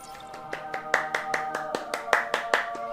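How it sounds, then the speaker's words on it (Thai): Steady rhythmic hand claps, about a dozen evenly spaced and close, ring out over sustained tonal background music. "ปรบมือสิครับปรบมือสิครับทุกคน"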